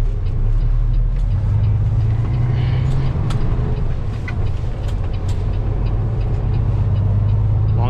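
Steady heavy engine rumble and road noise from inside a semi truck pulling a trailer through a right turn at a snowy intersection, continuous and close, with faint clicks and rattles throughout.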